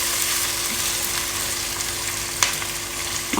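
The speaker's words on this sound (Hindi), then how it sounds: "अब हम इसमें आलू शामिल करेंगे और इन दोनों चीज़ों को हम हल्का सा फ्राई कर लेंगे।" Pieces of fish, potatoes and onions fry lightly in a pan with a steady, close, even sizzle. One brief utensil clink cuts through, and there is no talking.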